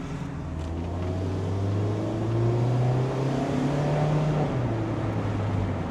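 A Mazda Miata's exhaust drones steadily while driving, a low engine hum that rises in pitch as the car accelerates and then drops after a shift, heard from inside with no talking.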